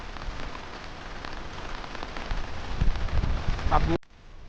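Rain falls steadily on surfaces in a garden, a constant close patter that swells slightly before cutting off abruptly at the end.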